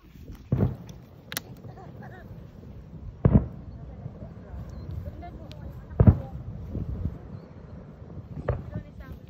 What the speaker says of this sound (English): we're out here watching fireworks in Cardiff, man